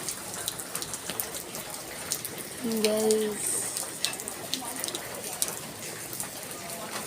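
Rain falls during a storm as a steady patter of drops on surfaces, moderately close, with brief talk from a person partway through.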